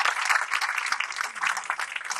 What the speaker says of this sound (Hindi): इन दोनों के लिए भी जोरदार ताली बजाएं